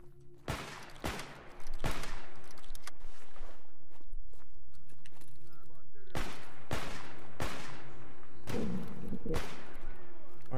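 Shotgun firing in the video game S.T.A.L.K.E.R. GAMMA, with around eight loud, sharp blasts spread unevenly over the stretch, some in quick pairs, over a steady background hum.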